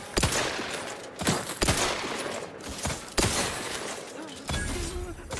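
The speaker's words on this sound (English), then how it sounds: "Stop shooting at me." Gunfire in The Outer Worlds 2 video game: several sharp, loud shots and bursts at irregular intervals, with crackling impacts and shattering between them over a steady background din.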